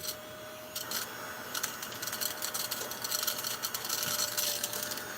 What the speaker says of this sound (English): I have a handy dandy little vacuum cleaner that should, there we go. So it should vacuum them up.